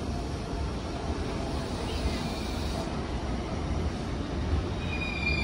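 A Keikyu 600 series Blue Sky Train arrives at Shinagawa station, its wheels rolling with a steady rumble while high, thin brake and wheel squeals ring out toward the end.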